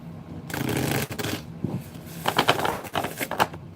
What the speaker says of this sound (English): Do a shuffle or two here or there. Make sure the cards are nice and shuffled before we get started.